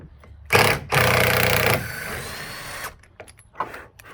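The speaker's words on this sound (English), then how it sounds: "I'll drill it out." A power drill bores out a spun-out bolt during a farmhouse renovation, loud and close: a short burst, a brief pause, then about a second of steady whirring that trails off, followed by quieter handling noises.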